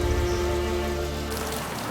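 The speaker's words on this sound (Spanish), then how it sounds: "Y nos cogió la lluvia aquí en la casa de Isabelica. Esto es una tormenta." A rainstorm in the mountains near Santiago de Cuba pours steadily onto surfaces around a house, a dense continuous hiss with no voices.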